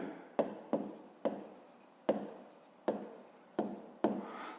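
Pen strokes on paper while writing out a fifth-grade maths solution, a series of seven or eight short scratchy marks at a steady, unhurried pace, close and quiet, with no talk over them.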